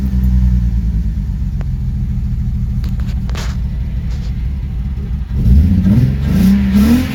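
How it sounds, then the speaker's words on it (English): A BMW E36 engine just after an OBD1 chip install settles into a steady, loud idle rumble, then revs sharply up and back in rising and falling sweeps near the end. "Alrighty, now this is the startup after installation."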